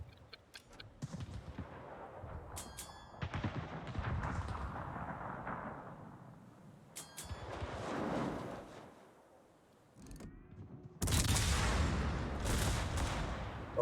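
Heavy booms and rumbling explosions as torpedoes strike a ship in the naval battle game World of Warships, several impacts spaced apart, the last a loud sustained blast.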